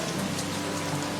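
Steady, heavy rain pours as an audio drama sound effect, a constant dense hiss with no breaks or voices.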